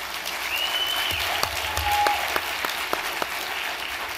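Audience at a political summit panel applauding, a sustained wash of clapping throughout with a few louder individual claps and faint whistles, heard from within the hall.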